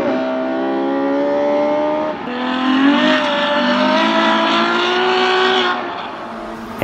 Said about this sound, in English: Like this comparison shows between a stock one